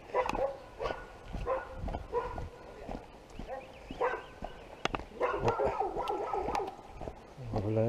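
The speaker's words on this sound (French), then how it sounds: "il y a des chiens qui aboient" Dogs barking in the Brabant Wallon countryside, several short barks and yelps scattered through, with hoof-like clopping and rustling nearby, fairly close and moderately loud.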